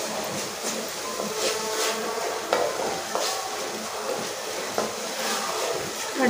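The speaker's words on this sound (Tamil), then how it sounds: "அடுப்பை மீடியம் ஃப்ளேமில் வச்சு பச்சை ஸ்மெல் போகிற வரைக்கும் நல்லா வதக்கிக்கலாம்." Shallot paste sautés over a medium flame in a pan for Tamil chicken curry, giving a soft continuous sizzle with scattered stirring scrapes, fairly quiet and with no talk.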